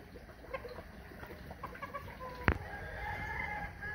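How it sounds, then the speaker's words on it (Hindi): Chickens and ducks let out of their pen on a cold, foggy farm morning give faint, scattered clucks and calls at a distance, with one sharp, louder sound near the middle. "सबसे पहले तो खोलते हैं मुर्गियों और बतखों को"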